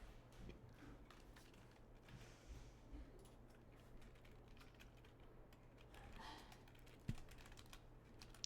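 Close computer keyboard typing, a continuous patter of quick soft key clicks with one sharper tap near the end, set against a low steady hum.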